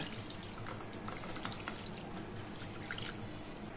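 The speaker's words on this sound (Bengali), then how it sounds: "এর জন্য আমি ঘরে থাকা রুম টেম্পারেচারের জল দিয়ে আমি ছানাটা 2-3 বার ধুয়ে নেব" Chhena (fresh cottage cheese) being rinsed with room-temperature water, a soft, continuous pouring and trickling sound with small splashes and drips, fairly faint and close, with no one talking.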